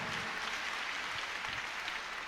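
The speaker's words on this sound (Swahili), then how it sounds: "Ongeza tena makofi kwa Bwana." Congregation applauding steadily at a church gathering, a dense continuous wash of clapping at moderate distance with no voices on top.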